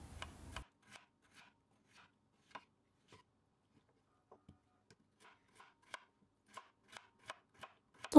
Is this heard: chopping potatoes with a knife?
yes